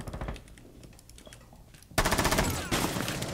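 Rapid automatic gunfire from Rainbow Six Siege hammers out in loud close bursts after a quieter stretch of muffled game noise and footsteps, with players talking.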